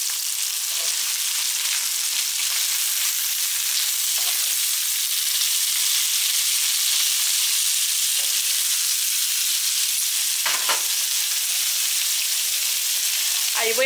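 Hot dog sausages sizzle steadily while frying in a pan, a continuous close hiss broken by a few brief clicks and stirring sounds, with no talking.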